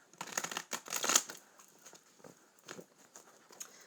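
Oracle cards being shuffled by hand in a living room, a few quick riffling bursts of papery flicking and patter, close and moderately soft, with short pauses between.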